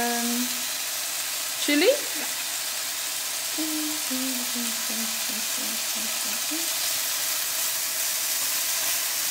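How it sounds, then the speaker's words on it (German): Finely chopped ginger, about a tablespoon, sautés in a pan as the base for a beef tagine with dates: a steady soft sizzle runs throughout, with a brief louder clatter near the start and a voice talking lightly over it. "Ungefähr ein Esslöffel Ingwer, klein geschnitten rein. Dünsten wir mit an."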